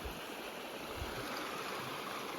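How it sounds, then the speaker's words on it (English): A decent-sized mountain creek in South Kananaskis in the Rockies rushes steadily, a continuous loud wash of flowing water filling the whole clip with no voices. "This is a pretty decent sized creek."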